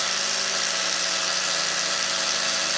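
Electric grinder held against an Axis deer hide, a steady, loud high-pitched whir that runs unbroken and close, with no speech.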